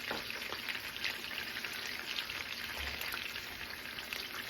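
Garlic sizzles steadily in a hot pan for a lemon butter sauce for seared cod, a continuous close frying hiss with no talking.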